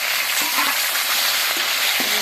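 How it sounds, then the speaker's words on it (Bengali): Mixed vegetables go into hot oil seasoned with five-spice, dried red chillies and bay leaves, a loud continuous close sizzle with faint stirring knocks of a spatula, no voices. "সব সবজিগুলো মিশিয়ে দেবো"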